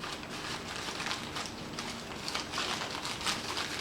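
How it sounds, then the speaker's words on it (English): Newspaper being crumpled and twisted by hand to shape the leg of a paper mache alebrije armature, a steady dry crinkling and crackling that runs continuously at close range with no talking. "the rest of the leg is kind of made by crumpling and twisting the newspaper"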